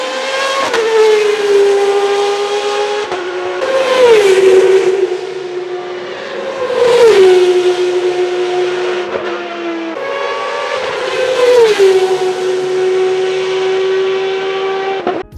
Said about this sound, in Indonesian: Selain punya power yang gede, mesin ini juga menghasilkan salah satu suara paling keren untuk didengar.